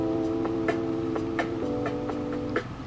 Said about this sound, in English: This is like our transition sound that we've decided that we like and that we use in every episode.